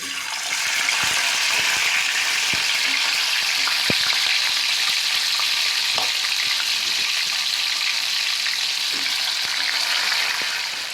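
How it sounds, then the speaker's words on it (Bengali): Steady, loud sizzling of fish frying in hot oil, a continuous hiss with occasional pops and crackles, close by with no talking. "আমার তেল গরম হয়ে গেছে, আমি একটা একটা করে মাছ ভেজে নেব।"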